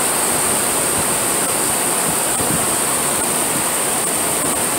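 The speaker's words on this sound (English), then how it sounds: "we got a rain shower" Steady rain shower falling outdoors, a dense even hiss of drops filling the whole clip without pause.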